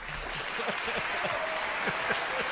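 Applause from an audience at a talk show, a steady wash of clapping with scattered voices and brief chatter mixed underneath.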